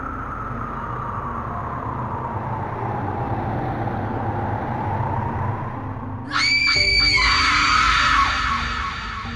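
Screaming and yelling in the Kamla horror video game, starting as a muffled distant wail over low rumbling ambience, then a sudden loud, shrill, wavering scream near the end.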